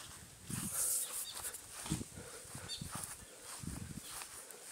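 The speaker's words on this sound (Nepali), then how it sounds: "अनि यहाँ भाउजूहरूकोमा चाहिँ रेम्बो भन्ने कुकुर छ क्या," A dog barks a few times at moderate distance on a rural Nepali homestead, short irregular bursts over steady outdoor background noise.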